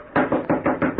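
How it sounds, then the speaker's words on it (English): Someone raps on a wooden stable door five times in a quick, even rhythm, each knock loud, hollow and close. "I knocked on the stable door."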